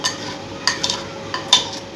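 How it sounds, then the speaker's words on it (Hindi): A spoon stirring two spoonfuls of sugar into warm milk, with a few light clinks against the container over a steady low background. "मैं इसमें डालकर इसको अच्छी तरह से मेल्ट करूँगी चीनी को दूध के अंदर"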